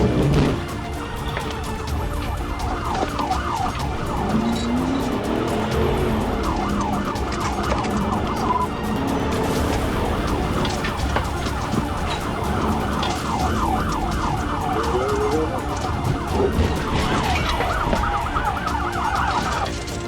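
A police car siren wails during a high-speed chase, with rapid repeating yelp cycles and sweeping tones over road and engine noise, loud and continuous throughout.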